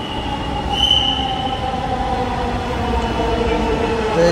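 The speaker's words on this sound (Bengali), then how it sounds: "তো এই জায়গায় কিছুক্ষণ দাঁড়ার পরেই দেখলাম যে ট্রেন চলে এসেছে।" An electric train pulls into a station with a loud, continuous rumble, a sustained high wheel squeal and a faint tonal whine, heard close and alone without voices.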